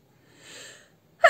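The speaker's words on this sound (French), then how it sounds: "J'éternue." A woman sneezes once, a soft drawn-in breath building for about half a second before a sharp, loud burst close to the microphone.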